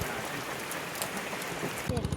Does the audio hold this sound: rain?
yes